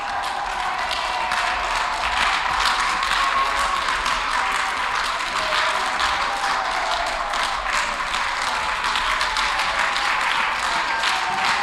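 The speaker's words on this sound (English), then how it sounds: "You have to clear the gallery if clapping continues" Steady, dense clapping from the public gallery of a parliament chamber, sustained without pause at an even level from start to finish, with no voices standing out.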